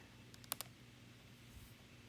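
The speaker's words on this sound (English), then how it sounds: "I'm typing with one finger here" A few sparse, faint clicks of single keys on a computer keyboard, tapped slowly with one finger, in a quiet room.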